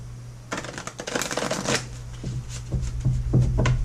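Doreen Virtue Angel Answer oracle cards being shuffled by hand up close, a steady riffling patter of card edges slapping together over a low constant hum, with no talking.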